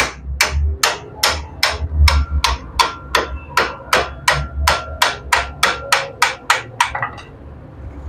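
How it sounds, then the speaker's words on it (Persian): A hammer strikes a punch held against a bearing inside a concrete breaker under repair, about sixteen sharp metallic blows at a steady, slightly quickening rhythm, close and loud, with no talk. "چکش میزنی روی این قلمگیر تا این بلبورینگ خارج بشه"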